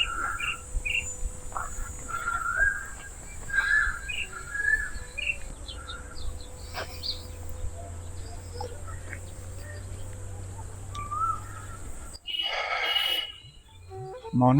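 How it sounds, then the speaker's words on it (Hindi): Asian koel calls ring out during a morning walk beside dry kikar trees in hot weather, a few repeated whistled notes at moderate distance over a bed of insect chirps and other birdsong, with a brief rustle near the end. "ये देखो कोयल की आवाज़।"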